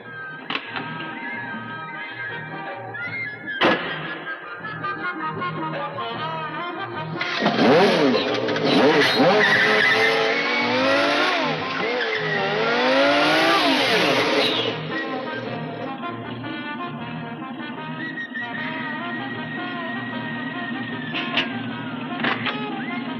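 An old car's engine cranks and then runs, rising to a strained, revving whine for several seconds as it moves off with a faulty differential, then settles into a steady drone with faint clanks.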